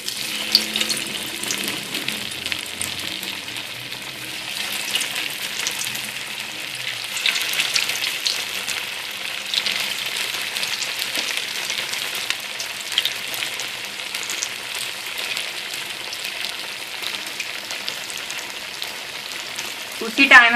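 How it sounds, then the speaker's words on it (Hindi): Aloo kabab potato patties frying in hot oil, a steady soft sizzle and crackle that runs on continuously at moderate volume with no talk over it. "अब मैं इन्हें फ्राई करूंगी।"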